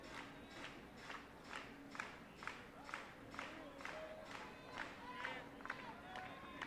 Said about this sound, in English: Two-strike clap here as Calder sends the 0-2 to the plate